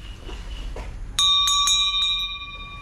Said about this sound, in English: I'm gonna ring the bell.